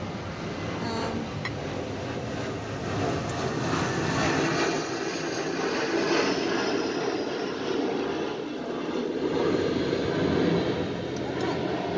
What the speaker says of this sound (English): you guys can see the plane going by now.